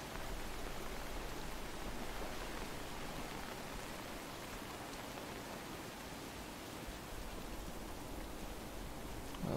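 Steady, even rain hiss in a video game at night, filling the whole stretch, a dense wash of patter with no breaks and no voices.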